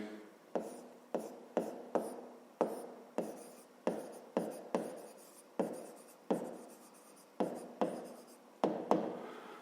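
Handwriting triangle names during a fifth-grade maths exercise, a close, quiet series of about twenty short pen or pencil strokes scratching on paper in an uneven rhythm, with no talking.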